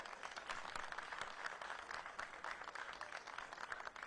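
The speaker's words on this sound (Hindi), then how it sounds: "चाहूंगी एक बार जोरदार तालियां अपने लिए बजाएं" Audience at a Delhi public event for the Atal Canteen launch applauds: a steady, dense wash of many hands clapping, faint and distant, continuous throughout without speech.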